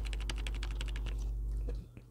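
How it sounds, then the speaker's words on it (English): Rapid, crisp key clicks from a mechanical gaming keyboard, typed in a steady burst close to the mic before stopping abruptly. "A mechanical gaming keyboard."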